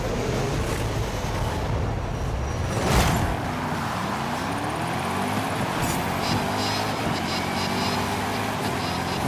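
Car engine starting and accelerating in the Forza Horizon 5 video game, a steady loud roar with rising engine tones as the car pulls away, a brief whoosh early on, under occasional faint talk.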